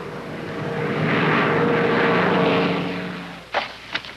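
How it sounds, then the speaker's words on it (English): Douglas A-26 Invader twin piston engines in flight, a steady droning propeller roar that swells and fades as the airplane passes, followed by two brief sharp bursts near the end. "The airplane is highly maneuverable, responds quickly to control pressures, and at her altitude cruises as fast as a fighter."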